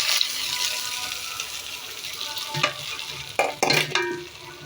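Food frying in a small amount of mustard oil, a steady close sizzle with sharp scraping stirs near the middle and end of the clip, and no talking.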